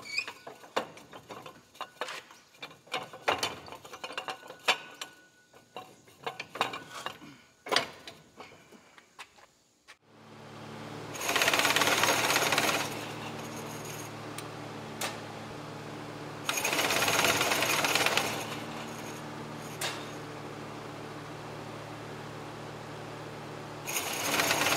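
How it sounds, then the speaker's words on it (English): The slip clutch of a 60-year-old New Holland Super 78 wire-tie baler, first with scattered mechanical clicks and ticks, then a loud grinding whine as the clutch plates spin and slip against each other in bursts, with brief pauses between. "it's going to spin against each other, and that should polish up the surfaces on the slip clutch"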